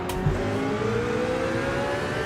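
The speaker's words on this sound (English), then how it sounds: "Oh, they're so feisty, these cars." Cars in a racing video game rev and roar, a sustained rising engine whine with layered tones climbing in pitch, loud and close with a brief bump near the start.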